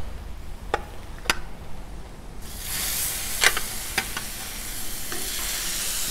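Steaks hit clarified butter on a 36-inch Blackstone griddle, a quiet start with a few utensil taps, then a sudden loud broadband sizzle that holds steady, with occasional scrapes and clicks.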